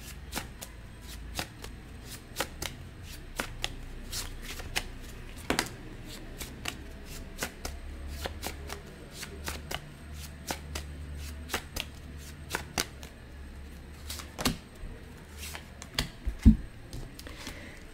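Tarot cards shuffled by hand for a pick-a-card reading, giving a steady run of soft riffling clicks and flicks close up, with no talking.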